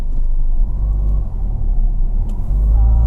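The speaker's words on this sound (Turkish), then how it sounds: "Frenden kaldırıyorum, gaza basıyorum." A diesel Ford Fiesta 1.5 TDCi with a smart clutch system pulls away as the handbrake is released and the throttle pressed, a low, steady engine rumble heard from inside the car, swelling at the end.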